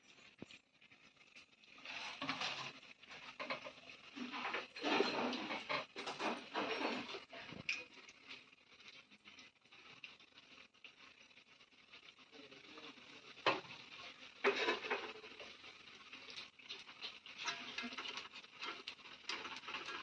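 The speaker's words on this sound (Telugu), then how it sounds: "వర్షం పడుతుంది, వారం అయిపోయింది, వర్షం పడుతూనే ఉంది" Steady rain pattering down outside in the hilly Araku region, a continuous soft patter with gentle swells in intensity, heard alone without any talk.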